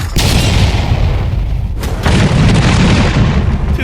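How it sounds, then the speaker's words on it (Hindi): A tank's main gun fires a shell at a cash target on an outdoor range, one heavy booming blast with a rumbling, dusty roar that carries on loudly through the whole moment. "ये 5 टैंक्स पैसों पर निशाना लगाकर 20 राउंड फायर करने वाले हैं"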